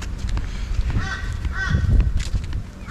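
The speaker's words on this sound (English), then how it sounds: "With a loud bird" A loud bird honks repeatedly, goose-like, near a beach, over steady low wind or surf rumble with no talking.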